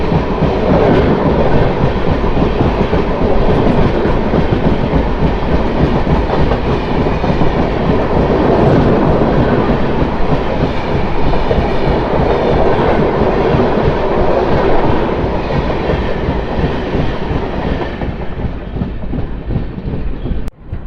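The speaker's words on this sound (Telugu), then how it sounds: "వ్యాప్సన్ లోకోమోటివ్తో ఒక ట్రైన్ వస్తుంది" The Karnataka Sampark Kranti train, hauled by a WAP locomotive, rumbles past close by for about twenty seconds with steady clickety-clack over the rail joints, loud throughout before it ends abruptly.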